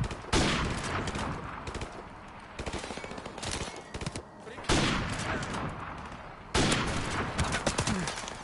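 Rapid bursts of video game sniper gunfire, several loud sharp volleys separated by short gaps, with faint voices underneath.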